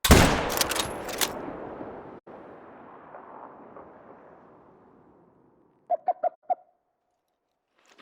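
A single loud 7mm rifle shot fired at a bighorn sheep in The Hunter: Call of the Wild cracks out and rolls away in a long echo over several seconds, followed by a few short bird chirps with no talking.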